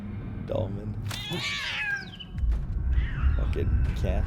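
Cats meow and caterwaul in the video game Death Stranding 2, several drawn-out wavering cries over a steady low game background, with a voice speaking at times.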